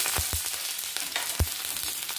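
Onion frying in a pan after vermicelli, a low crackling sizzle with a few sharp utensil taps scattered across a short stretch, no voices.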